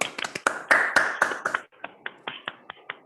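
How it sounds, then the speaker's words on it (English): Scattered online-audience clapping after a mathematics talk: a handful of separate people clapping through unmuted microphones, crisp close claps in uneven overlapping bursts, denser at first, then thinning to sparse individual claps. "Let's all unmute and clap."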